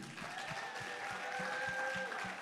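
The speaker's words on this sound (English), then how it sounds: "Give a warm, loud, cheerful round of applause for Mr." A summit audience claps for a man called up to give the closing remarks, steady dense applause throughout with a thumping beat underneath and a sustained musical tone.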